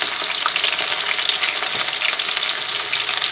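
Small chicken pieces for chicken Parmesan fry in hot oil, a loud, steady, dense crackling sizzle that runs without a break, heard alone.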